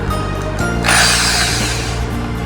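Drilling machine with a loose internal contact whirring steadily, joined partway by a louder rattling, grinding burst that holds for about a second before settling back to the motor hum.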